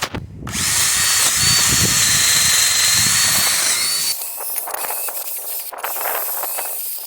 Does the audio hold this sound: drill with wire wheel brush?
yes